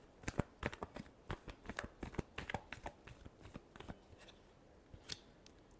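Tarot cards are shuffled in a string of crisp, papery riffle snaps and slaps, irregular and close, with a final louder flick near the end.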